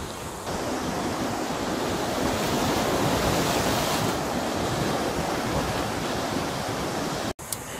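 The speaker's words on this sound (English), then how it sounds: "no two waves are ever quite the same" Ocean waves break on a rocky shore along the Dumfries and Galloway coast, a steady, loud roar of surf and wash with wind buffeting the microphone, ending in a brief knock.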